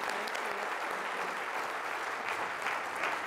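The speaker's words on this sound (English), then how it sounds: "please join me in a big round of applause for our panel" Audience applause for a panel of mayors at a climate summit, a dense, steady clapping from a large crowd that holds evenly throughout with no voices breaking through.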